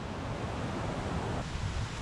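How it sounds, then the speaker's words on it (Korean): Water rushes down a waterfall in a valley stream in Norway, a steady broadband roar heard from some distance, continuous and without breaks. "저기는 계곡이다 물 흘러요 폭포"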